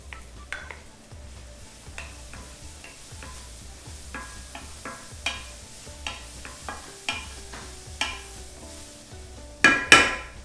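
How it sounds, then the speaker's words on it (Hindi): Chopped onion frying in a pot for lobia pulao, with a soft steady sizzle under repeated scrapes and taps of a stirring spoon, ending in a louder clatter against the pot. "प्याज को लगभग 3-1 मिनट भूनने के बाद टमाटर डाल लेते हैं।"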